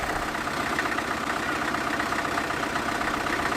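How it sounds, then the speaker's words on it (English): An International BMD tractor engine idles with a steady, rough, low rumble that runs continuously without change throughout. "The unmistakable sound of the International BMD."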